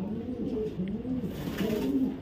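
A male racing pigeon gives low, rolling coos in a steady series, heard up close and alone.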